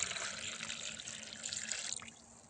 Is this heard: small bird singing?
no